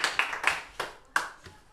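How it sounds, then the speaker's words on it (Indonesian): A small group claps hands in a classroom, a few loud sharp bursts of clapping that start and stop across under two seconds, fairly close. "Baik, tepuk tangannya."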